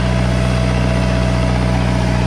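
A worn tractor in poor condition, engine running steadily and loud up close, with a low, even idle-like drone throughout and no talk.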